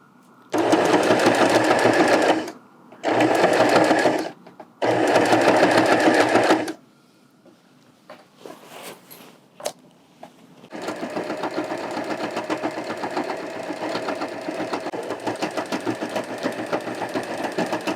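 A sewing machine stitches binding onto a Liberty fabric quilt in three loud, steady bursts separated by short pauses, then after a few clicks and handling noises the machine runs continuously at a softer, even pace.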